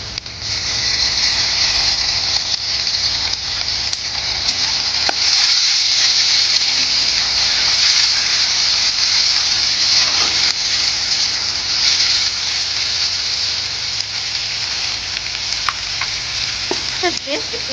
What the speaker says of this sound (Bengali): পেঁয়াজগুলো লাল লাল করে ভাজা হয়ে গেছে, আর আমি কুচানো টমেটো দিয়ে দিই।